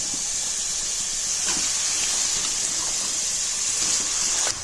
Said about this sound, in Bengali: এখন আমি যে বেগুনগুলো কেটে রেখেছিলাম সেই বেগুনগুলোকে আমি দিয়ে দেবো ওখানে